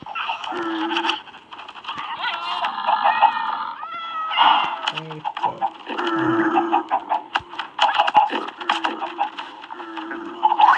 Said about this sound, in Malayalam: ഓക്കെ, ഇതിൻ്റെ ക്യാറ്റ് ഉണ്ട് കേട്ടോ